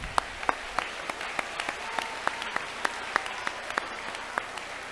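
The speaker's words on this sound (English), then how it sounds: "Another round of applause." An audience at a school moving-up ceremony claps after an eighth-grade chorus performance. The clapping is thin and scattered, with individual claps standing out in an uneven rhythm over a soft hall murmur.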